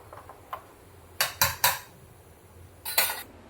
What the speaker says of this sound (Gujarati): કુકરમાં મૂકી દઈશું આપણે આ તપેલી।